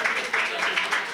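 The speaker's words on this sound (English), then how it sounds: "Let's get a round of applause for our volunteers" An audience claps for volunteers at a live Writer's Center show, a short burst of brisk, fairly close applause with a few cheers rising through it.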